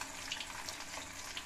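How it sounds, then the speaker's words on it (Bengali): Katla fish sizzles in hot oil, a steady, soft crackling hiss with small pops scattered through it, close and unbroken. "আর এক সাইড উল্টে দিয়ে আমি ভালো করে লাল লাল করে ফ্রাই করব"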